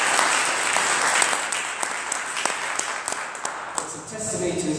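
Sustained applause from a conference audience at a plenary session, dense and steady for nearly five seconds with individual claps standing out, fading slightly toward the end.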